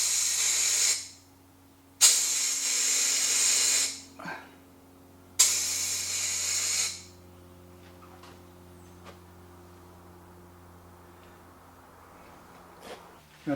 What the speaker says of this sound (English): I'm going to give a blast of CO2 air over here instead of over there